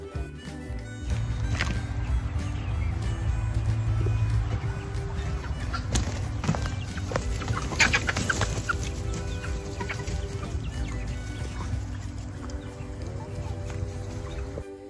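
A flock of chickens clucks continuously nearby, overlapping calls and soft squawks with occasional wing flaps and rustling throughout.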